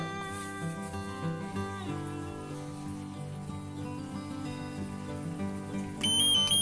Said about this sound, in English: With a simple key turn, the organizer can turn off the alarm.